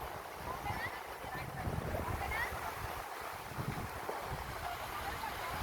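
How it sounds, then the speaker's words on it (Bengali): Sea waves wash steadily against the shore amid heavy wind rumble, a continuous roar with no distinct breaks, and faint voices in the background. "জাস্ট এই সমুদ্রের সাউন্ডটা শুনুন।"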